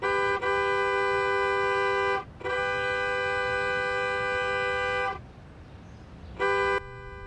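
A car horn blares in long, sustained honks, two extended blasts, then a pause before a short final toot, loud and close.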